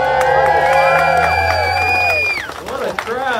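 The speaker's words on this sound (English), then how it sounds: "What a crowd. What a crowd." A crowd at the grand reopening of Logan's Roadhouse in Fredericksburg cheers and whoops loudly with shrill, sustained voices, then breaks into scattered shouts.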